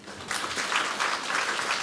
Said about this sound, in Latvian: Liels paldies, aplausi.